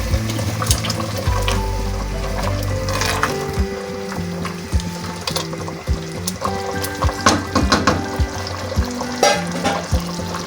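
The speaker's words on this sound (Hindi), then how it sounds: "अब हम इसमें पानी डालेंगे।" Water splashes and sizzles into a hot pot of potatoes and meat, followed by clinking and stirring sounds, close by.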